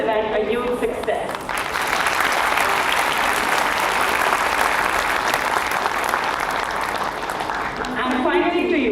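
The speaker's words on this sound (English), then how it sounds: "A big round of applause for Industry Interaction Committee" Conference audience at IIM Amritsar's IT and analytics conclave breaks into loud, sustained applause that fills the hall for several seconds, with a speaker's voice heard just before it starts and again as it fades.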